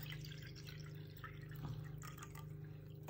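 A cup of water is poured into lumpy chickpea flour in a home kitchen, a soft trickling, gurgling stream running steadily for a few seconds, faint and close over a low constant background hum.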